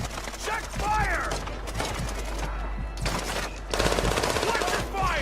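Video game gunfire rattles in rapid automatic bursts with sharp individual shots, loud and close, broken by brief gaps and mixed with shouted in-game voices.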